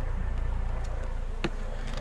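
Honeybees at a depopulated, requeened beehive after swarming, a low, steady buzzing hum close by with a faint tick or tap partway through.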